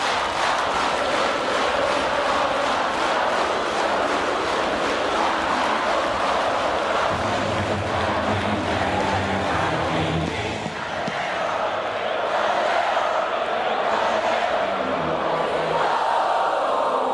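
A huge crowd at a concert sings a song together, a loud, continuous wash of massed voices from a vast audience that fills the space without letup.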